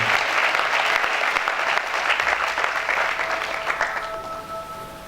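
Loud applause from a large church audience fills most of the clip, then thins out and fades toward the end.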